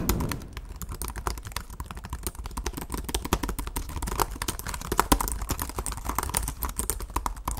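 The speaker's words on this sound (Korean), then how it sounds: "그래서 이 타이핑하는 느낌이 어떤지 한번 ASMR로 들려드리도록 하겠습니다." Fingers type quickly and continuously on the keyboard of a 2022 LG gram laptop with deep 1.65 mm key travel, producing a dense, close stream of soft clicking keystrokes with no talking.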